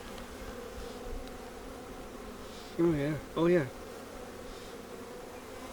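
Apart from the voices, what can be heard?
honey bees buzzing around open hive frame with brood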